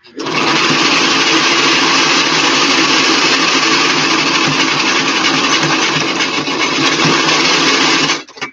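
A sewing machine runs steadily and loudly, stitching flat cap pieces together in one continuous whir for about eight seconds, with no talking.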